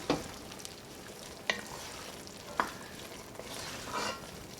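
A spoon stirs asparagus and frozen peas in a hot pan, with a soft sizzle underneath and three or four sharp scrapes and clinks spread out, no talking.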